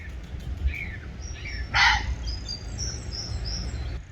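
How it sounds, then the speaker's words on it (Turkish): A red fox gives a sharp, brief scream outdoors at night in London, standing out once amid faint bird chirps and low background hum. "Arkadaşlar bu sesini duyduğunuz şey tilki."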